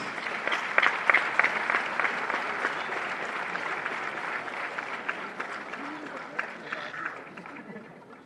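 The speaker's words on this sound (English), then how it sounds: "One huge round of applause, please" An audience at an award ceremony honouring an army colonel gives a sustained round of applause. Clapping starts strong and crackling, then gradually thins and fades out at the end.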